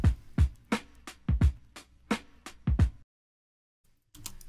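A punchy drum beat at a relaxed 87 BPM: deep kicks and crisp snare hits in a steady groove for about three seconds, then silence before resuming.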